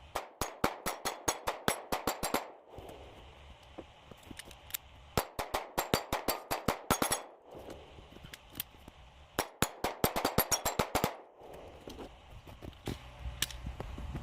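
Taurus G3c pistol firing a magazine of rounds: rapid sharp shots in quick bursts, separated by short pauses, with more volleys from nearby shooters, loud and close.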